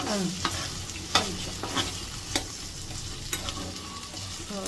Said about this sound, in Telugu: జీలకర్ర పోయేదాకా ఫ్రై చేయాలమ్మా